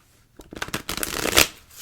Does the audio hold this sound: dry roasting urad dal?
no